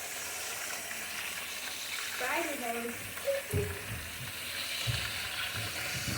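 Chicken wings sizzling in a frying pan with a steady crackling hiss, while a few scrapes and a clunk mark the pieces being flipped partway through, all heard at close range.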